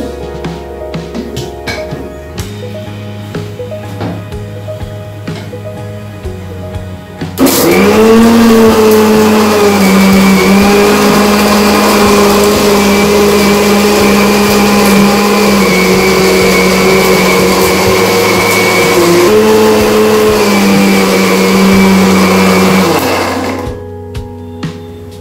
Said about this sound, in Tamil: இந்த மிளகாய், இந்த வெங்காயம், பெப்பரு எல்லாமே நல்லா அரையணும்.